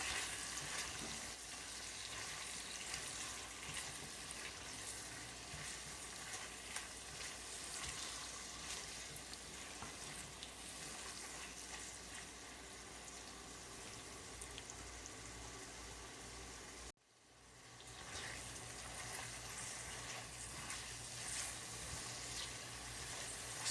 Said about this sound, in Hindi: लौकी को भी इसमें मिक्स करके अच्छी तरह स्टर फ्राई कर लेंगे।